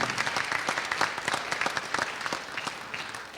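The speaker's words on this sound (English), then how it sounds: "Please give them a nice round of applause" Audience at a performing arts center claps steadily, a dense, even patter of many hands filling the hall at moderate loudness throughout.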